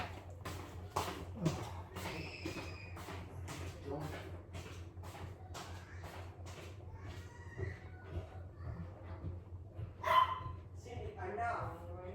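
A dog barks in short, separate bursts in a home kitchen, with a person talking over the barks for most of the stretch.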